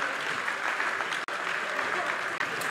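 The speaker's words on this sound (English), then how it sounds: "Round of applause for young Kimberly." A crowd applauds at a junior sheep shearing semi-final at the 2019 Golden Shears, with steady, dense clapping throughout, fairly distant, with a couple of brief dropouts.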